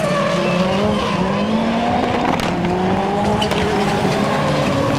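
DS3 rally car exiting the joker lap at a rallycross event in Lessay, its engine droning loud and steady with tire squeal and skidding in the mix, no voices over it.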